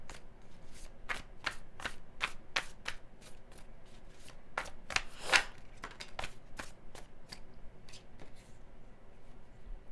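Tarot cards being shuffled close by, a quick series of crisp riffling bursts in uneven rhythm, soft and alone with no talk.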